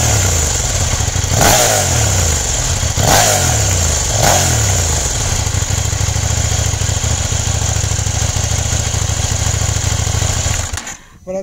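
Motorcycle engine breathing through an SV Motec exhaust with the catalytic converter fitted, loud and close, with three sharp throttle blips over a rumbling idle before it cuts off near the end.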